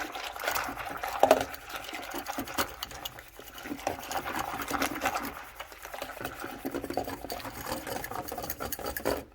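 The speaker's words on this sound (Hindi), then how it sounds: "जावन डालने के बाद मैं इसको ये मिक्स कर लूँगी" Curd starter stirred into warm milk, a steady liquid stirring and scraping sound, moderately close and continuous, with no talk.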